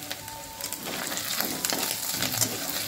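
Spices sizzling and crackling in a kadai for a potato and cauliflower vegetable biryani, stirred with a spatula, a steady close frying hiss with soft scraping strokes throughout.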